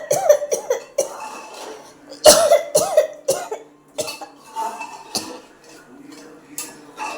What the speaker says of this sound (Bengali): যা তেজ, কাশি এসে যাচ্ছে।